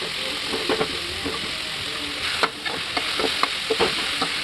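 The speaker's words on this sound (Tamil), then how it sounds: "பட்டாணி கேரட் பீன்ஸ் மூணுத்தையும் சேர்த்துக்கலாம்" Peas, carrot and beans stir-fry in a pan as a loud, close sizzle, broken by repeated scraping stirs and knocks of the spoon, with no talking.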